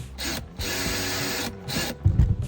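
A power drill whirs into the body of a Runaway camper in two long bursts with a short pause between, then a shorter burst and some handling knocks, close and loud with no talk.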